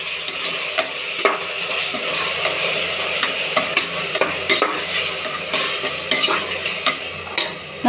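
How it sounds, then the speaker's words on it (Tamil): Mint leaves and yogurt stirred into shallow frying oil for a mixed-vegetable biryani, giving a steady sizzle with repeated scraping clicks of a spoon against the pot, close and continuous. "இந்த எண்ணெய் பிரிஞ்சு வர ஸ்டேஜில் புதினாவும் தயிரும் ஊற்றிக்கலாம் நல்லா வச்சுக்கலாம்"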